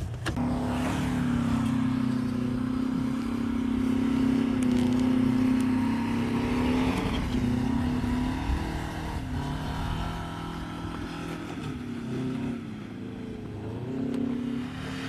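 A Citroën 2CV's small engine revs steadily on a winter drive with friends, droning loud and close throughout, its pitch rising and falling as it accelerates, with no talking.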